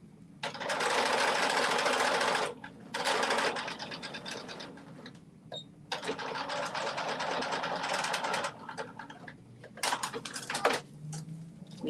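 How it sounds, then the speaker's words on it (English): Sewing machine stitching fabric for a McCall's 8555 pattern: close, loud runs of rapid mechanical whirring in several bursts separated by short pauses, with small clicks and fabric handling in between. "we have sewn all the way around"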